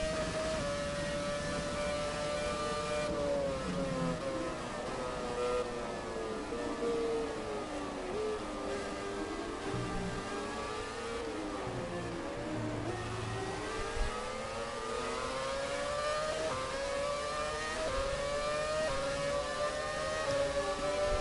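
McLaren MP4-23 Formula One car engine in the F1 2017 video game, racing at Shanghai International Circuit: a loud, continuous high-pitched scream that rises and falls through gear changes and braking, with no talking.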